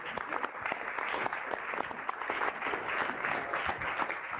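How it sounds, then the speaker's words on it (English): Audience applause at a livestreamed youth and future-of-work panel event in Geneva, a steady continuous patter of clapping from a crowd, fairly faint and distant throughout. "we haven't given you a proper applause yet for your story"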